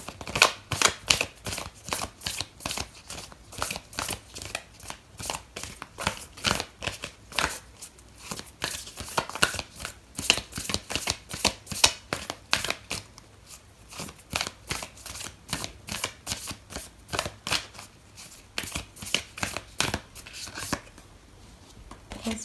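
Oracle cards being shuffled for a Scorpio tarot reading, a long run of rapid, close, crisp riffling flicks in a steady rhythm with brief pauses, with no speech over it.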